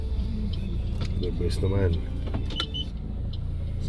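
A car reverses slowly during a driving lesson, its steady engine hum and cabin rumble continuous throughout, with an instructor and learner talking over it inside the vehicle.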